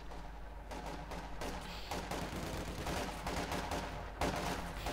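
Sustained machine gun fire rattles through a Company of Heroes 2 battle, with dense overlapping bursts and scattered shots spread across the field at moderate distance, unbroken by speech.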